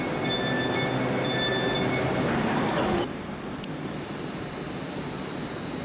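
Train at Manchester Piccadilly or Victoria station, heading home to Durham: a steady mechanical rumble with faint tonal whine that drops in level abruptly halfway, then continues as a quieter hum.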